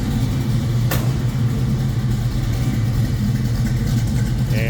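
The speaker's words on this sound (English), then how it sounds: "You can see great throttle response, that EFI system." A 1967 Ford Mustang coupe with an EFI system idles steadily with a low rumble, then blips the throttle in a brief rev; the engine is close and continuous throughout.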